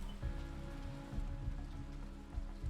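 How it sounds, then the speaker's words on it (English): Rain falls in the video game Surviving the Aftermath: a continuous patter of raindrops on surfaces, moderately loud and steady, with faint low rumbles beneath. "It's raining."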